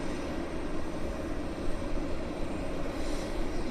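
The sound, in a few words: Air Canada flight 37 aircraft taxiing at Vancouver Airport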